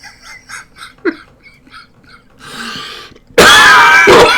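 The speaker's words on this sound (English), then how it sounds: "I'm coughing shit up." Soft broken sounds give way to a sudden burst of loud, harsh coughing up close near the end.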